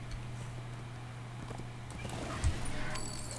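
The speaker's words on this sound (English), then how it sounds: "And then wait for the horse to appear." A horse is summoned in the video game Darksiders 2. Faint clip-clop hooves and a brief whinny rise over a low game hum, with a sharp sound effect near the end.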